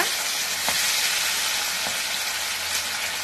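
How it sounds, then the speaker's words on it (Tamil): Chilli chicken pieces fry in hot oil, a loud, dense, close sizzle running steadily throughout with a couple of brief crackling pops and no voices. "இப்ப எண்ணெய் காஞ்சிருச்சு. இப்ப நம்ம ஒவ்வொன்னா போட்டு எடுத்துடலாம்."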